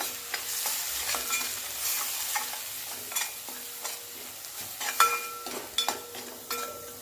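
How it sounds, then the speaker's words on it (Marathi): Spices fry with onion paste in a pan while being stirred, a soft sizzle broken by short scraping strokes of a spoon against the pan at an uneven rhythm, close and moderately loud, with no voices. "आता याच्यामध्ये जे मसाले घेतलेत ना आपण ते टाकून घ्यायचे गॅस कमी करून घेऊया एकदा मसाले मिक्स करून घेऊया"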